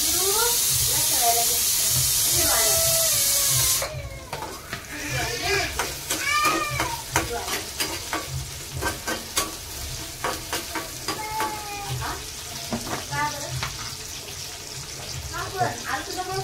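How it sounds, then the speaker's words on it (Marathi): Tomatoes go into browned onions frying in a pan, a loud steady sizzle at first that drops away into scraping stirs and intermittent crackling, with a voice talking over the cooking. "कांदा चांगला ब्राऊन झालाय, याच्यामध्ये आता मी टमाटे टाकतो"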